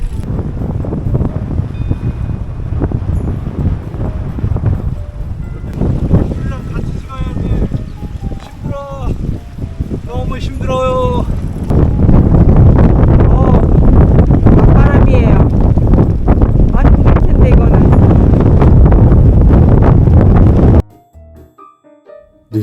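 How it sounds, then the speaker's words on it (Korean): Strong coastal wind on a Dunedin beach bike trail in New Zealand buffets the microphone, rising to a loud, constant roar in the second half, with people talking over it early on, then cutting off abruptly near the end. "뉴질랜드의 해안 지역은 바람이 매우 강합니다"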